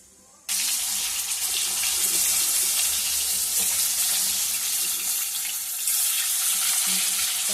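An egg frying in a pan with salt and turmeric, a loud, steady sizzle that starts suddenly and holds close and continuous, with no talking.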